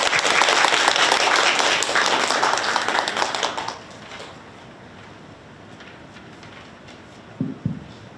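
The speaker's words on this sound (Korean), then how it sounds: "우리 서로서로 한번 힘찬 박수 보내주실까요?" Audience applause at a youth-support sponsorship day event, a loud burst of clapping for about four seconds that cuts off into quiet room tone, followed by a brief faint knock or thump near the end.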